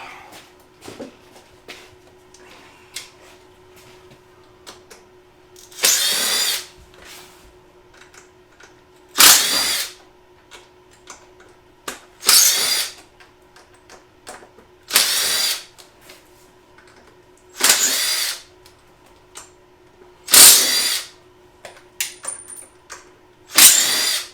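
A power drill removing screws from a canoe runs in short whirring bursts, about seven of them, each a second or so long, separated by quiet pauses with a faint steady hum.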